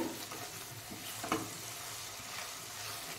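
Kasuri methi being stirred into fried masala in a pan for knife fish curry, a steady soft sizzle with light scraping strokes and one brief sharper clatter near the middle.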